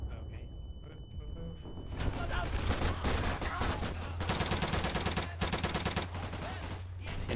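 Rapid volleys of musket and rifle fire crackle through a Civil War battle game, loud and dense after a quieter opening, with shots overlapping continuously under faint voices.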